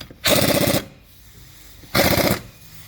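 Wheel bolts on a 2019 Ford Transit are driven tight with an impact wrench in two loud, rattling bursts, each about half a second long, separated by a quiet gap.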